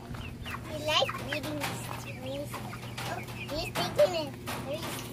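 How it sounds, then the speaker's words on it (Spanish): Small chicks and hens cluck and peep in short, scattered calls close by, with faint rustling underneath. "Dándole de comer a los pollitos."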